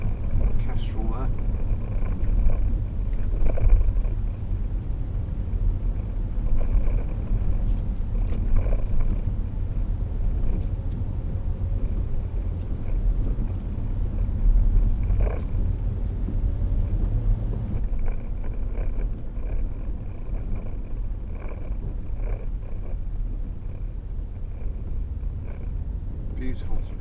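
A 2012 Range Rover Sport 3.0 SD V6 cruises with a steady low engine and road rumble and light wind noise throughout. A voice talks over it.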